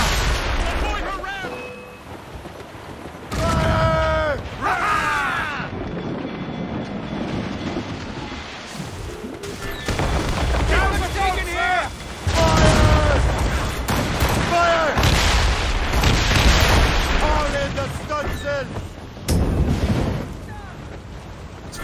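Ship cannon fire in Assassin's Creed Rogue: repeated heavy booms among a dense, noisy naval battle, close and loud, with shouted voices and whistling sounds throughout.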